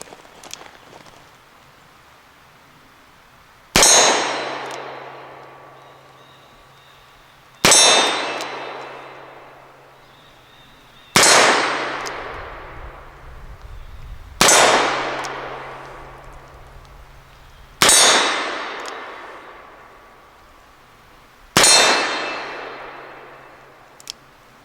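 Smith & Wesson Model 1917 revolver fired single action at a steel target: six sharp shots, each with a ringing metallic clang that decays slowly, spaced about three to four seconds apart, loud and without talk.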